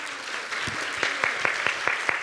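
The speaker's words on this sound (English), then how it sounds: "One more round of applause." An audience applauds with scattered individual claps standing out over a steady bed of clapping, moderately loud and close.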